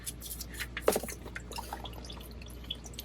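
Transmission fluid draining from the pan drain plug of a Jeep JK, close irregular drips and a thin trickle of liquid with one sharper splash, quiet overall.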